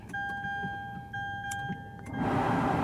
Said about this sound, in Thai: อ่ะเราลองกดเหยียบเบรกแล้วกดสตาร์ท